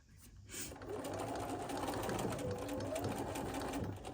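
A sewing machine runs in one continuous, steady whir while stitching a pillow finish, starting after a brief pause and staying close and even to the end.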